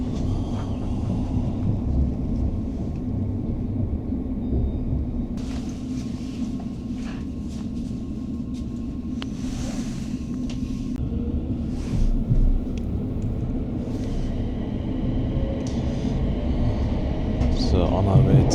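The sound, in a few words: train running on the Gourock railway line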